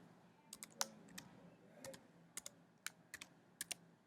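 Sparse, quiet clicks of computer keys as an equation is typed, arriving in small irregular clusters over a low background hiss.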